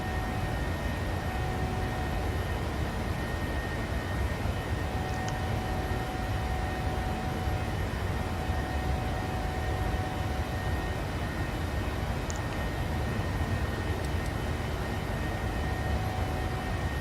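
Airliner engines in flight in Flight Simulator, a steady, even roar and hiss heard from the cockpit, unchanging throughout with no distinct events.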